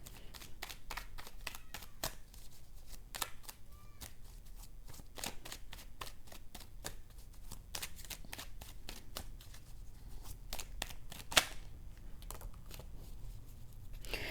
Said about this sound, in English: Let me pull one more card for that.